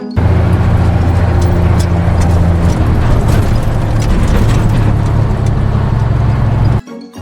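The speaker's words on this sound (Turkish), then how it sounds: "Kamyon işte böyle ses çıkartır." A truck engine roars loud and steady for nearly seven seconds, a heavy low rumble that then drops away abruptly; no distinct horn blast stands out.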